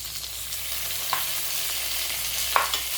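Chopped onion and tomato sautéing in a pan for paruppu urundai kuzhambu, a constant close sizzle with a couple of brief sharp spatula clinks against the pan, no talking.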